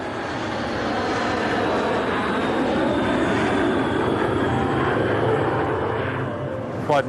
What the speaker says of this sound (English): And here she comes, the 787 Dreamliner.